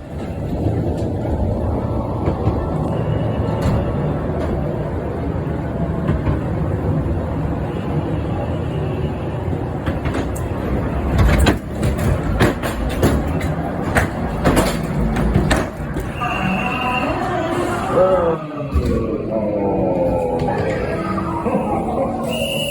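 A ghost train ride at Knoebels Amusement Resort rumbles, clatters and rolls steadily along its track, with scattered bangs, effects and faint voices mixed in throughout.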